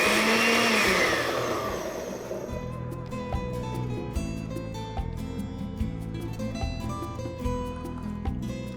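An electric blender purees tomatoes and habanero chili in its glass jar. A loud whirring surge at the start settles into a steady, grinding motor drone with rhythmic pulsing as the contents churn, running continuously with no voices.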